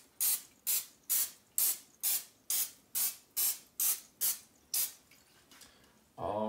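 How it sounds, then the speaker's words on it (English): Nonstick cooking spray is misted into the cups of a muffin tin for mini corndog muffins: about a dozen short, regular hissing bursts, close and loud, then a brief louder sound at the end. "Now I'm just going ahead and spraying each one of these little muffin tin holes with a little bit of nonstick spray."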